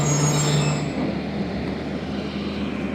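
Millat Express passenger train at a station platform, a loud heavy rumble of rolling railcars close by with a brief high-pitched squeal at the start that fades into steady clattering.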